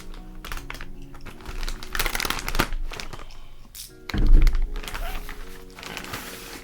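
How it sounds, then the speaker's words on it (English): A cardboard packaging box holding a carbon fiber C8 Corvette decklid being cut open, with scraping, crinkling and sharp tearing noises that come in uneven bursts, close by, with a louder thump near the end. "I still need to cut more into this box"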